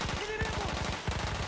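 Rapid gunfire from a fast-firing gun in the Battlefield 1 video game, a tight string of shots in quick bursts that fills the whole short moment.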